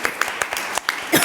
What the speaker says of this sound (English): Let's really give them a quick round of applause so far.